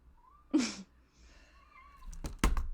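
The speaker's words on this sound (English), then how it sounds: "She's still meowing." A cat gives one clear, drawn-out meow up close, followed after a pause by a couple of louder thumps or rustles.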